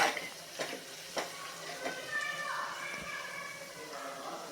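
Cluster beans (gavar) sizzle in a pan as salt is mixed in, with spoon clacks against the pan at the start, then a steady frying hiss while a person talks over it.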